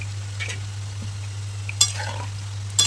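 Kapanya snacks frying in hot oil are stirred, giving a steady sizzle with a few sharp scraping strokes near the start and end, close and alone with no talk.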